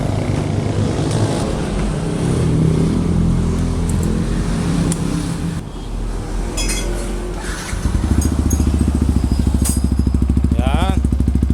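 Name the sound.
Yamaha R15 motorcycle revving with aftermarket muffler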